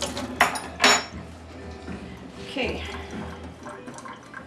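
A metal spoon clinks against dishware in a home kitchen while making manicotti, followed by water running and splashing steadily close by as the spoon is rinsed, with a brief spoken word.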